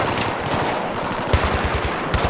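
Rapid bursts of shotgun fire in the video game Battlefield 3, loud and close, with heavy booming blasts repeating in quick succession over continuous battle noise and no talking.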